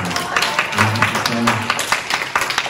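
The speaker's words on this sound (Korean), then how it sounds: "우리 진짜 애쓰는 형님한테 박수 한번 주세요" An audience at a youth church service claps for a hardworking older member, a steady wash of applause filling the room with voices mixed in.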